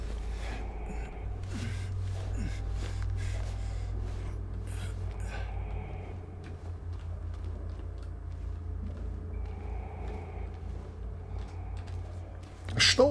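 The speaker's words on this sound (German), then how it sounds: "Was schnauft denn da wie Darth Vader" Heavy, deep snorting breaths in the Silent Hill 2 Remake, low rasping inhales and exhales repeating slowly over a droning rumble, with a person talking intermittently over it.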